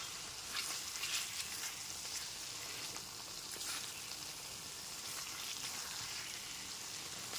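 Aloo potol posto being stirred in a pan after raw mustard oil is added, a soft, continuous low sizzle with faint scraping, fairly quiet throughout.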